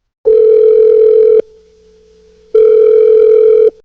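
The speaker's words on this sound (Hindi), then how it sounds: "पर बेल जाती है और कॉल नहीं उठती।" Two long electronic ringback tones separated by a pause of near silence, loud and steady with a clear pitched hum.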